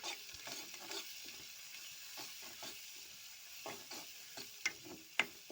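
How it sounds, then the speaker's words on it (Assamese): Spices being stirred into a fish curry in a pan, giving a soft low sizzle broken by irregular scraping stir strokes and a couple of sharp clicks near the end, close but quiet, with no voices. "যিখিনি মছলা আমি লৈছিলোঁ আৰু সেইখিনি দিছোঁ। তাৰপিছত অলপ ভালদৰে লৰাই ল'ব।"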